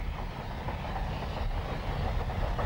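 A preserved Somerset and Dorset Joint line steam locomotive hauls a train along a seaside line near Blue Anchor, heard as a loud, continuous rumbling roar with rail noise and no voices.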